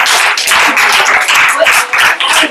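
Studio audience or hosts cheering and clapping, a dense wash of applause and whoops lasting a couple of seconds, loud and close throughout.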